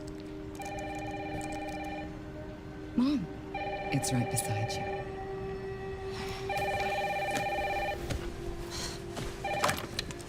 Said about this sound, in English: Mom, phone.